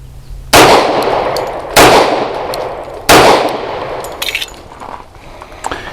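A Bersa B1911 pistol fires Ammo Inc. 230-grain hollow-point rounds: three loud, sharp reports about a second and a half apart, each trailing into a long echoing decay, followed by light metallic clinks.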